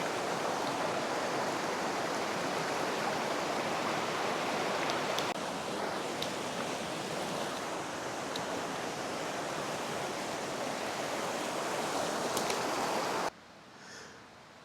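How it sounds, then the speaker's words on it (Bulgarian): A waterfall on a mountain eco trail roars as a steady, dense rush of water, loud and continuous from nearby, then cuts off abruptly near the end. "отсреща ще застана срещу водопада да ви го покажа по-подробно"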